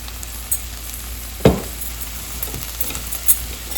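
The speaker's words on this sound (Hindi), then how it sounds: "चीज़ों को मिक्स कर लेंगे" Patty filling with dark soy sauce, black pepper and vinegar sizzles in a pan as it is stir-fried, a sharp clack of the spatula standing out early over a steady frying hiss, with no talk.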